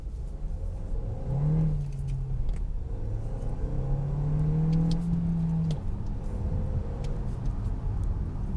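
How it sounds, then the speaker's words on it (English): The base-engine Hyundai Tucson with a manual gearbox pulls hard, its revs rising and falling through a couple of gear changes. The engine note is moderate and heard from inside the cabin, with no talk over it. "Right, let's go for a quick pull."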